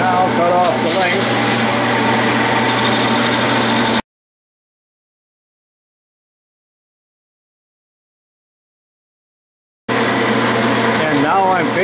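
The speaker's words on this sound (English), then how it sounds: "And I'll do that with a cutoff tool, or it could be done with a hacksaw, it doesn't matter." A metal lathe runs with a cutoff tool parting off a metal tap follower, giving a steady motor hum with a high whine. Sound breaks off into silence mid-stretch, then resumes, and a voice talks over it.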